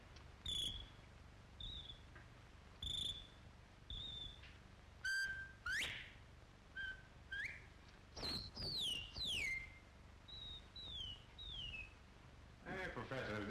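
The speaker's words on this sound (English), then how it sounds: "If you take this bottle and you whistle in it," A series of short whistled notes, some rising and some sliding, with faint hissy noise between them; no talking.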